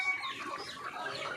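Sonali chickens on a Bangladeshi poultry farm in hot weather, clucking in a busy overlapping chorus for the whole moment, moderately close.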